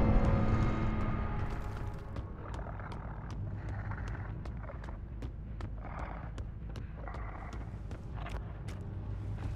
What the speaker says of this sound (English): We can hear the Kate running.